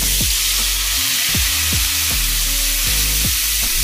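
Half a teaspoon of whole white cumin and ground spices sizzle loudly in hot oil for a Bengali chitol fish curry, a continuous close hiss broken by repeated scraping stirs.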